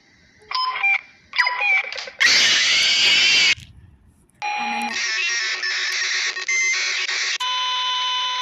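Electronic alarm tones in a Five Nights at Freddy's fan game sound in repeated bursts, shrill and synthetic, with a short gap before a sustained, buzzing alarm continues to the end.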